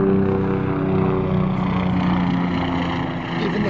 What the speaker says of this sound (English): Even the helicopters are coming to watch.